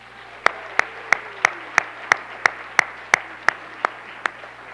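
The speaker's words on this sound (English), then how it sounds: "Let's give a big round of applause for those with 35 years of service to Carmel Clay Schools." Steady, evenly spaced clapping of about fourteen crisp claps rings out at a school board meeting. The claps are sharp and distinct, as if the audience is clapping in unison over a quiet room hum.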